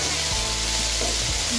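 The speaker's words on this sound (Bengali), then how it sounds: "ভাজতে ভাজতে এতে হলুদ গুঁড়ো দিয়ে দেবো আর কাশ্মীরি মির্চ দিয়ে দেবো।" Spices frying with turmeric and Kashmiri chili for khichuri, a loud, dense, continuous sizzle heard up close, with a low rumble shifting underneath.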